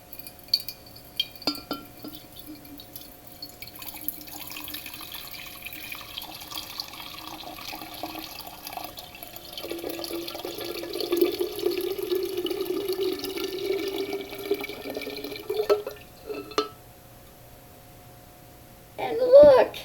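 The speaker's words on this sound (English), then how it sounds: "He's going to pour some water into my pitcher." Water poured into a pitcher: a soft, continuous trickle that swells into a louder stream for a few seconds, with faint clinks and a voice talking around it.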